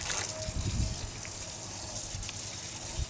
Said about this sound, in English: Then come back to the front side and rinse on it all the way across.